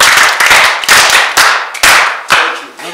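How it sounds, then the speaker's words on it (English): A classroom of students claps for a classmate in several loud, close bursts of hand claps, each swelling and fading over about three seconds. "Sit down, clap for her."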